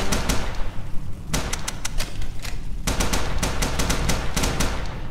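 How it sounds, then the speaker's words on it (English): Rapid bursts of Tommy gun fire in a video game, loud close rattling volleys broken by a short pause partway through, then resuming in dense repeated bursts. "Tommy gun doesn't have infinite ammo because you have to reload after every so often"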